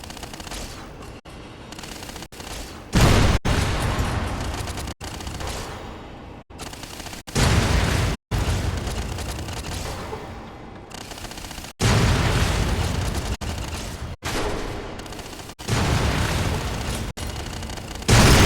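Turret gunfire in the Fallout New Vegas video game: loud, close bursts of rapid automatic fire and booming impacts, repeating in clusters separated by brief breaks, with no talking.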